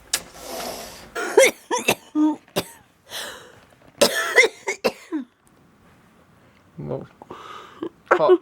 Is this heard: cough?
yes